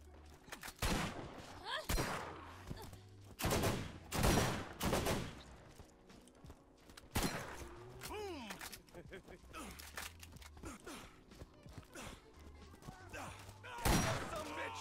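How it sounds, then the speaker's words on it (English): Shotgun fire in the video game Borderlands, a run of loud, punchy blasts in irregular bursts with talk from players scattered between and over the shots. "Man, these shotguns, like, do take a while to connect."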